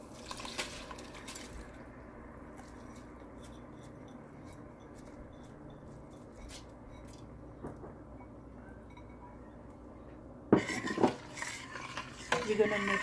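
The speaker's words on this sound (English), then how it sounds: "We're gonna mix it and cover it" Rice being stirred into a boiling pot while making sweet rice zarda, with soft scraping and bubbling under a steady background, then louder clinks of a spoon against the metal pot near the end.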